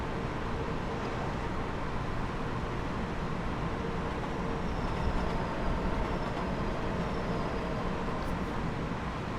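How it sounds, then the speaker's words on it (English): A train rumbles through a nearby tunnel on the LIRR line in the video game Train Sim World, a continuous low roar with faint metallic squeals that swells slightly midway, alone without talk. "I think I heard the train in the other tunnel."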